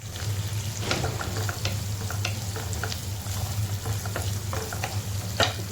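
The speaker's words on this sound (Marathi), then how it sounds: "आपला कापलेला कांदा टाकून घेऊया आपण थोडं खायला परतून घेऊया" Chopped onion sautés in hot oil with popped mustard seeds and asafoetida, a steady soft sizzle broken by occasional scraping stirs, close and alone with no talk.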